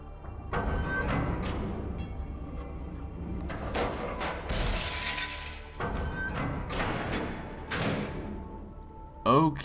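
A sphere smashing in the game Myst III: Exile, a series of glassy shattering crashes and heavy thuds spread across the clip, ending in a sharp loud burst.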